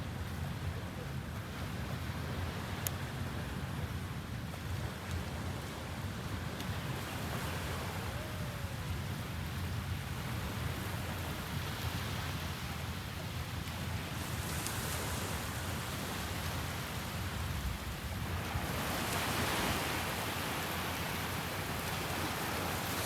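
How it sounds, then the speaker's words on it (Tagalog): Ocean waves at Station 1 on Boracay beach, a steady broadband wash of surf with wind, continuous and fairly soft, with swells of louder rushing toward the end. "ang ganda ng tunog ng mga alon"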